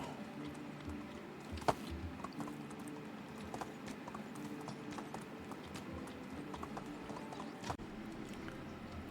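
A baby horse's hooves clip-clop softly in the medieval village game Medieval Dynasty, giving a quiet, irregular series of light steps over faint ambient game sounds.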